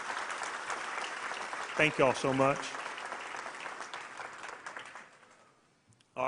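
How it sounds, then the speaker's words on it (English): A large crowd applauds teachers at a school district gathering, the clapping steady and broad before a speaker briefly thanks them over the fading noise. "let's give them another round of applause for making this year possible"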